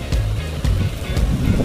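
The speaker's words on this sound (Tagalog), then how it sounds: "Yung ingay ng tubig." Rushing water of Maranum Falls in Natividad, Pangasinan, heard as a steady broadband roar with low rumbling, fairly loud and unbroken with no voices.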